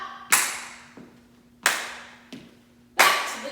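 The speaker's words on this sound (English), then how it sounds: "Step touch, but I'm going to add a clap." Sharp single hand claps in a beginner disco dance routine, five crisp claps spaced about a second and a half apart, each ringing briefly in a quiet room with a faint steady hum underneath.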